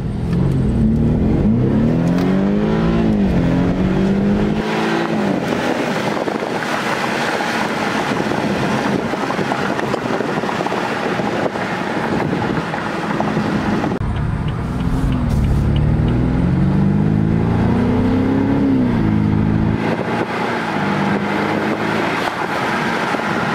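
A BMW F30 328i with an M Performance sport exhaust revs and pulls hard from a takeoff with a deep, throaty exhaust note, rising in pitch through two long accelerations, loud and close throughout.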